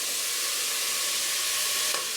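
Food fries in olive oil in a pan, giving a steady, close sizzling hiss with no talk.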